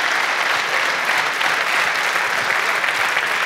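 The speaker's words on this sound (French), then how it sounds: "Déjà, je pense que vous pouvez applaudir ce casting exceptionnel." A seated audience at a round-table discussion on sport and future champions gives steady, even applause for the panel, a full wash of many hands clapping with no pauses.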